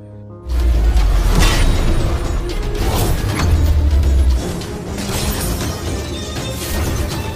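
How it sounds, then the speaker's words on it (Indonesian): Animated clash of two immortal furnaces erupts into a loud explosion, with heavy booming impacts, crashing and shattering debris after a brief silent start, rumbling on throughout. "tungku mereka berdua beradu kekuatan dan ledakan pun terjadi hingga pada akhirnya topeng yang digunakan oleh si penculik juga hancur"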